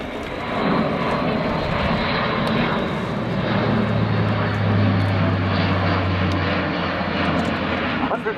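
An Airbus A400M Atlas turboprop military transporter roars steadily overhead during a flying display at RAF Fairford airshow, a broad continuous engine drone with a low throbbing hum that swells midway, heard at a distance.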